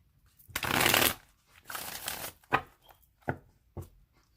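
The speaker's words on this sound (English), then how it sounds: "Okay, so I'm going to shuffle it 3 more times." A deck of tarot cards being shuffled by hand, with a long riffling burst followed by a second rustling pass and several short crisp taps as the cards are squared, close and clear with no talking.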